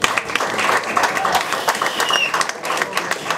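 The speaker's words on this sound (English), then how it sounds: "Give yourself a round of applause for staying." An audience at a small cafe show gives a scattered round of applause, moderately loud and uneven, with claps and some crowd noise mixed together over a few seconds.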